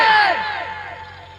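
A crowd at a Bengali religious gathering answers the preacher by roaring the Nara-e-Takbir slogan in unison. A single loud collective shout opens the clip and slowly fades out.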